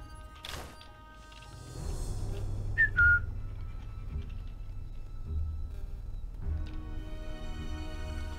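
Short whistling in the video game Sniper Elite 5, a couple of faint brief tones against a quiet low background hum.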